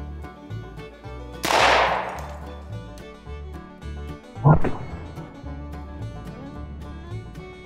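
Gunshots are fired at a glass lantern globe, giving two sharp loud cracks a few seconds apart. The first decays with a broad burst, and both sit over a steady rhythmic musical background.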